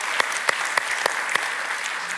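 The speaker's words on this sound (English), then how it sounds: "So a round of applause as well for ASML and Frank." Audience applause at the opening of a university academic year, a steady hall-filling patter of clapping hands with a few louder individual claps standing out near the front.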